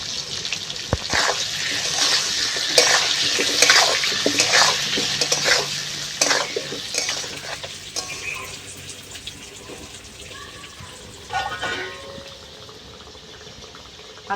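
Potatoes fry in oil with turmeric and salt while a spatula stirs them in repeated rhythmic scraping strokes over a bubbling sizzle, which grows quieter toward the end.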